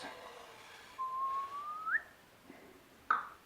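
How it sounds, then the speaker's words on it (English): A short rising whistle from one person while pouring rice, a single sustained tone sliding upward, followed by a faint clatter against quiet background noise. "It's important to whistle when pouring things in."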